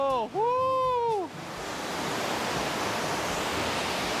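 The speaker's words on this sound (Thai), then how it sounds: "น้ำตกนางรอง" Nang Rong waterfall in Nakhon Nayok gives a steady, broad rush of falling water that swells and holds loud and constant once a short burst of voices at the start fades away.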